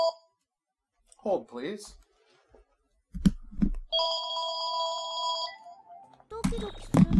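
A phone rings in the VR game Gal*Gun VR: a steady electronic ringtone trill that holds for about two seconds, set between short bursts of speech.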